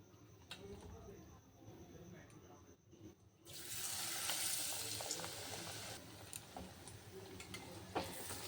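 Eggplant fritters (beguni) frying in hot oil, a quiet hiss that swells into a loud, continuous crackling sizzle partway through as the batter-coated slices drop in, heard up close.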